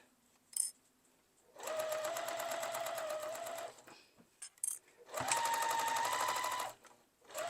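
A sewing machine bastes stitches along a line on a small coin purse, running in two long steady bursts with a short pause and light handling clicks between them, close and loud.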